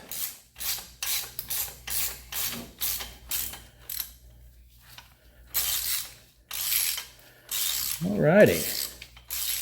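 A ratchet loosens the fan fasteners on a Chevy small block 350 in a 1971 Chevelle, its pawl clicking in short close bursts with pauses between, and someone says a brief word near the end.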